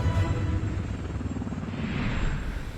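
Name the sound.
AH-64 Apache attack helicopter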